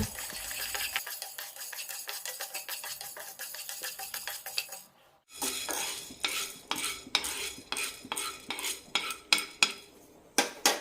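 Urad dal dry-roasting in a pan while a spoon scrapes and stirs, giving a steady run of close clinks and scrapes, a brief pause, then louder, sharper metallic strokes in quick succession.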